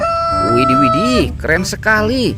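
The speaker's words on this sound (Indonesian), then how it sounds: "Yang ini ada ayam berkokok." A toy egg plays a recorded rooster crowing, a bright harmonic call with rising and falling swoops, heard up close while a person speaks excitedly over it.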